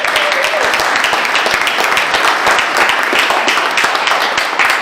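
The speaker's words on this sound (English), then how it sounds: "everybody should welcome Theo with a hand of applause" An audience at an editorial cartoonists panel applauds to welcome cartoonist Theo, a dense, steady patter of many hands clapping close by, with faint voices mixed in beneath.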